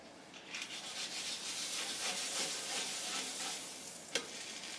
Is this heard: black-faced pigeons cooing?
no